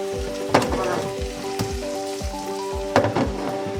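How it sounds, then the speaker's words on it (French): Onions fry in plenty of oil for a Cameroonian ndolè, a steady close sizzle with occasional crackles and pops. "On laisse le tout bien frire."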